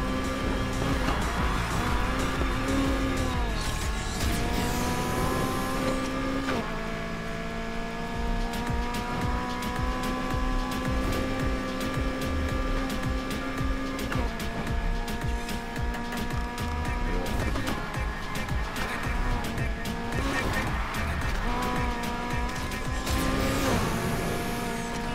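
Nissan Silvia racing in the video game Need for Speed Heat, engine revving loudly and continuously through gear shifts with tire squeals and skids, game sounds and faint voices mixed in.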